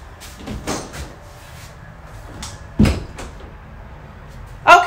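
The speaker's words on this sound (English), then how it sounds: "I need to close this door" A door inside a mobile home swings shut with a sharp, close thud, followed a moment later by a second bright knock or latch click, with quieter shuffling and handling sounds earlier on.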